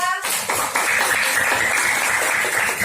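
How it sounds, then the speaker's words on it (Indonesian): A classroom of students claps for a classmate, brisk clapping that starts after a short voice and continues steadily with some tapping and shuffling. "tepuk tangan untuk nada"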